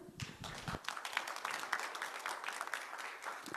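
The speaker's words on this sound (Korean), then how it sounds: "여러분의 박수로 이홍로 대표님 모시겠습니다." An audience at a digital asset forum claps to welcome a speaker: fairly quiet, crisp scattered clapping that swells after a brief opening moment and continues at a modest level.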